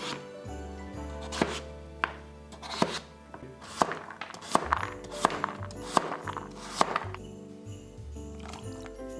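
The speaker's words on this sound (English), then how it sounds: "we're gonna chop up all the vegetables. Thinly sliced carrot, chop onion into small pieces" A knife chops thinly sliced carrot and onion on a cutting board, a dozen or so sharp, uneven thuds with steady low background hum and no voices.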